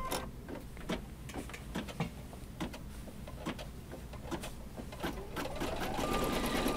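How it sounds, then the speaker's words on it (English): An embroidery machine stitches a zigzag border around a heart, producing rapid regular mechanical clatter and needle ticks at close range, steady and moderately loud. "Now it's going to do step number three, which is going to put the zigzag around this heart."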